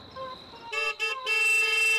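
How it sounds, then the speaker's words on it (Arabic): A car horn sounds in a busy street scene, with two short honks followed by one longer sustained blast, loud and close, after a brief stretch of fainter background tones. "بس كفايه من غير كلاكس."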